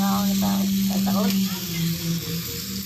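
Food sizzling on a cooker at a Korean store in Seoul during a mukbang, a steady frying hiss under a close voice speaking throughout.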